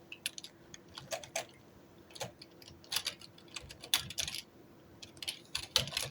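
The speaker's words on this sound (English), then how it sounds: "typing this in all caps" Quiet typing on a computer keyboard at a desk: irregular bursts of close key clicks and taps with short pauses between them, over a faint steady hum.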